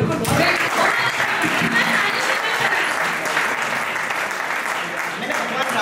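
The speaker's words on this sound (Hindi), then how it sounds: "एक बार ताली बजाइए" An audience at a Hindi poetry recital (kavi sammelan) breaks into loud, sustained applause, a full crowd clapping close by throughout with some voices mixed in.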